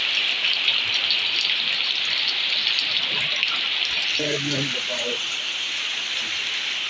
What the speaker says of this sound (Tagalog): Huwag na sana lumaki yung ulan.